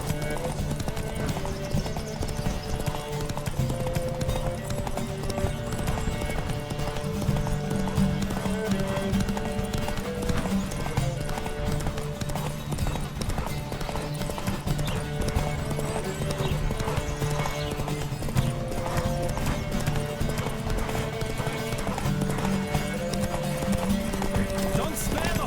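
Horse hooves gallop in a rapid, continuous clip-clop rhythm during a Witcher 3: Wild Hunt horse race, beneath music and occasional voices, steady and close for the whole stretch.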